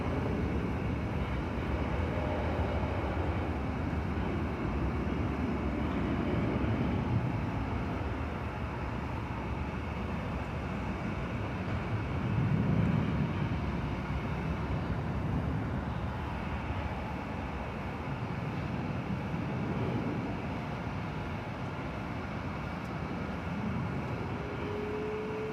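An American Airlines jet bound for London taxis over the bridge at Dallas Fort Worth Airport at night. It makes a distant, steady engine rumble that slowly swells and fades amid airport background noise.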